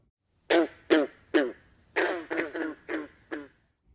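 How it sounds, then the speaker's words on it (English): A green frog gives a series of about eight short, twangy croaks in an uneven rhythm, close and clear with no other sound. "green frog,"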